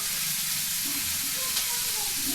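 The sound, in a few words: curry leaves sizzling in hot oil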